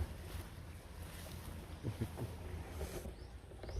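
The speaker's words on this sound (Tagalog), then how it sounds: "Ay, malakas pa rin yung agos." A strong creek current rushes steadily close by, a constant watery roar with light splashes and some wind buffeting the microphone.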